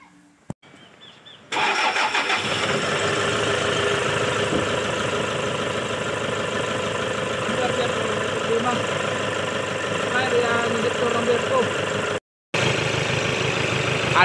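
A Toyota Hilux 1KD diesel engine with a malfunctioning number 2 injector cranks and starts, then settles into a loud, steady, slightly rough idle close by. There is a brief dropout near the end, and a few voices are faintly audible.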